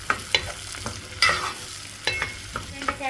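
Okra sautéing with tomato in a pan gives a soft, faint sizzle under a series of sharp scraping and clinking stirs, spaced irregularly a few times per second.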